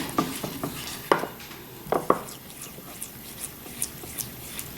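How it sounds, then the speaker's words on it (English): Sweetener powder is stirred around the bottom of a bowl for a low-carb chocolate candy bar, giving soft scraping swirls punctuated by a few sharper spoon taps against the bowl. The sound is close and quiet, with no talk. "you can hear the powder in the bottom of the bowl. And so I stir until I cannot hear that anymore"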